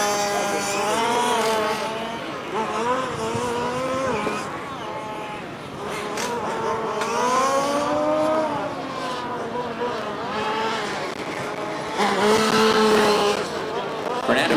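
F1 Spec 5 race cars lapping a track, engines droning and rising and falling in pitch as cars pass, with tire noise, under ongoing commentary from an announcer.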